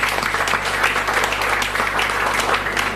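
Dense, sustained applause from a large audience, steady and loud throughout with no pauses.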